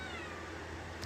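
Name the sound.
cat meowing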